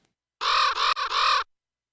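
A crow caw sample in a drum and bass production, three loud, raspy caws in a quick row that sound clean and close against silence.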